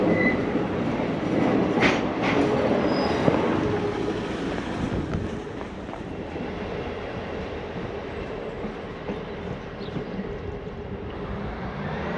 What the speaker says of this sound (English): Look, there's a train in the station.